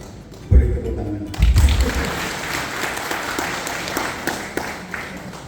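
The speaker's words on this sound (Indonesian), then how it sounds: "Boleh tepuk tangan." Audience applause at a swearing-in ceremony for the Lamongan branch of the Indonesian Doctors Association, heard as a loud burst of clapping after thumps, then a steady crowd wash with talk over it.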